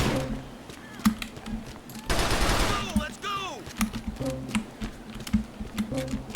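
Gunfire in the video game GTA: The Lost and Damned comes as rapid clustered shots and a longer automatic burst with clattering echoes, mixed with a low game hum and keyboard clicks.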